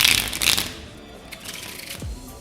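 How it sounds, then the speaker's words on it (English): Playing cards are riffle shuffled and bridged by hand, giving a close, loud fluttering burst of riffling at the start followed by softer cascading card sounds as the deck settles. "you can just end it there and push the cards together. But if you do the bridge"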